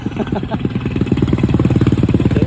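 A motorized tricycle engine putters with a steady, rapid mid-pitched pulse that grows slightly stronger and more rhythmic, running close by on its own.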